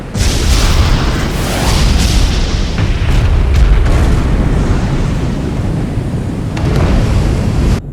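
Heavy booming blasts and rumbling explosions of spaceship missiles roll on continuously, a dense wall of low thunder with crackling bursts layered through it.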